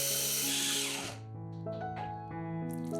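An electric food chopper whirs as it grinds soaked bread with onion and garlic into a smooth mass. A dense, coarse grinding fills the first second, then a steady, pitched motor whine runs on with small shifts in tone.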